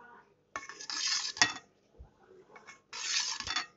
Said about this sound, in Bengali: এখন আমি এই জেলটা কেটে নিব।